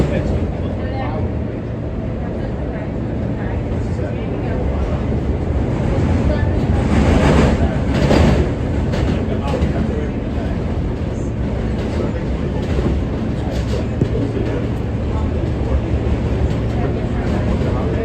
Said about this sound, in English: This is a Manhattan bound J train.